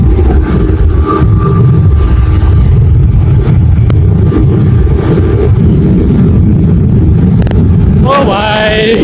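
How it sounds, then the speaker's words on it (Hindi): BMW 310 motorcycle riding past, a continuous engine drone mixed with heavy wind rush, ending in a rising, whining rev. "BMW 310 चल रही है भाई"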